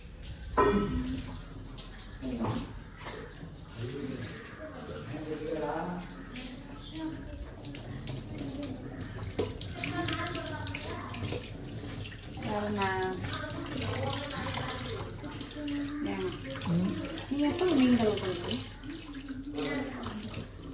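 Tap water runs and splashes at a sink while fish are washed in a home kitchen, a continuous close gush with people talking over it throughout.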